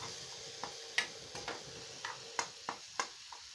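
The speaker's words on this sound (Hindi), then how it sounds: "अब इसे हम 10-15 सेकंड तक अच्छे से पकाएंगे" Egg bhurji cooking in a pan, heard as a soft, steady sizzle broken by sharp light clicks and taps of a utensil at irregular intervals, fairly quiet and close, with no voices.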